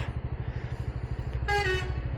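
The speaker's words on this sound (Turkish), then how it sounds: "Hobi olarak kornaya basıyorum." A car horn honks in a short burst from inside or near a vehicle on a road in Turkey, sounding over a steady rumbling engine idle that runs underneath the whole time.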